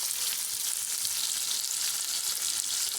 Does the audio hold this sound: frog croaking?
no